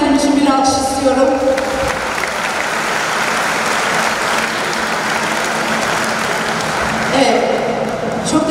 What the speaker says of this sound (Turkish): tüm sınıf öğretmenlerim ve branş öğretmenlerim için bir alkış istiyorum